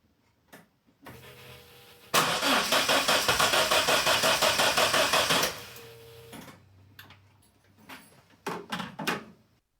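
A car engine converted from carburettor to individual throttle bodies cranks for about three seconds with a loud, rhythmic starter churn, followed by clicks and knocks in a quiet garage.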